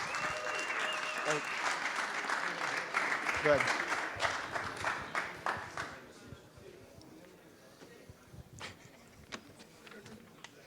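Conference audience applauding as a presenter is called on stage, with dense clapping that thins into scattered claps, and a brief word spoken near the end.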